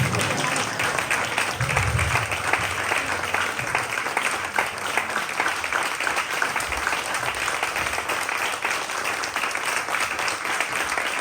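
An audience at a student modern singing recital applauds the singers, a continuous, even wash of clapping from a crowd that holds steady for over ten seconds.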